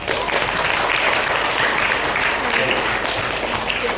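Dense, steady applause from an audience at a training session, a continuous wash of many hands clapping at even loudness from start to finish.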